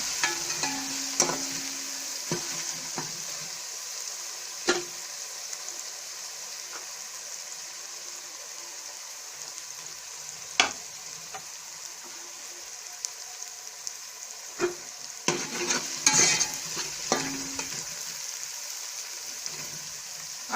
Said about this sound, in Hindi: अब लहसुन को थोड़ी देर भूनेंगे।